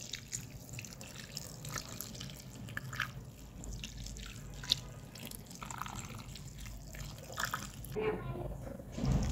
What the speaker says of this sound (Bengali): এখানে রস ঢেলে দিচ্ছি।